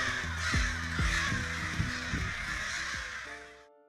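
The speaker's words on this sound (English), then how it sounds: "Hundreds of crows gather and circle at once," Several crows caw repeatedly over a dense, steady backdrop of many birds, loud and close, with harsh calls overlapping throughout.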